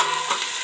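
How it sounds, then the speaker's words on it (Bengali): Snake gourd (chichinga) fries in a covered pan with a continuous bright sizzle, close and steady for a brief moment. "2-4 মিনিটের মতো ঢাকা দিয়ে ভাজতে থাকছি"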